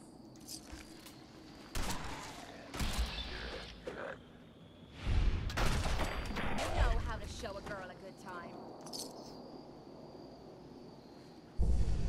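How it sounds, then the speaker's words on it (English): Gunfire in the video game Fallout 4 Far Harbor: sharp, loud weapon blasts in scattered bursts with whooshing impacts, mixed with game sound effects and someone talking over the action. "I'm shooting things."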